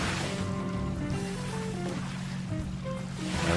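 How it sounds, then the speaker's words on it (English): Water rushes and washes steadily against the hull of a 400-foot yacht cruising in a VR yacht simulator game, a constant close surf-like swash with a low engine-like drone and faint tonal notes. "Just kind of enjoying the sound of the water, to be honest with you."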